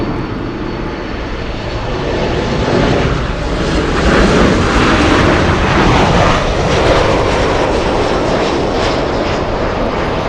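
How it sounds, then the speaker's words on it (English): A Lufthansa Boeing 747 bound for Frankfurt takes off from runway 24 left at LAX, its engines producing a loud, sustained roar that swells and holds for several seconds. "Lufthansa 457, the 747 flying back to Frankfurt is supposed to take off at just a little after 3 p.m."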